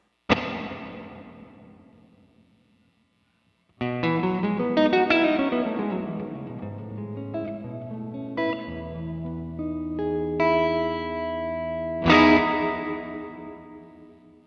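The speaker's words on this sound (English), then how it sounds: "the plate reverb. Also a very specific sound modeled after the 140." An electric guitar through a plate reverb pedal modeled after the EMT 140 strikes a chord that rings out in a long, shimmering reverb tail, then plays a melodic line washed in lush, lingering reverb.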